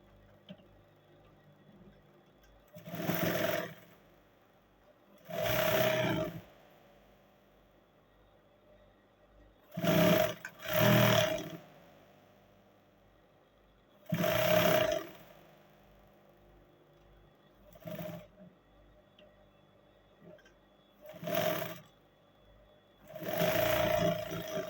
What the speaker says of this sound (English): And I'll go right ahead to sew it now.